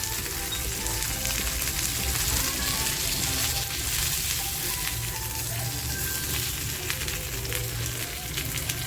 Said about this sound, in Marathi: आता हे छान असं दोन्ही बाजूनी शेकून घेते